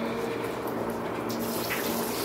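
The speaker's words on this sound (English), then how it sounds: "there's some water coming through here" Water rushes steadily from the opened end cap of a greenhouse misting line, a constant close hiss of flow under pressure with little variation.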